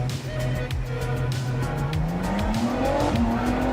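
Race car engine with rising and falling gear pitch and tire squeal skids in a GT racing video game, loud and continuous throughout.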